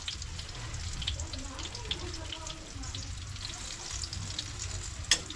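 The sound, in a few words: eggs frying in cooking oil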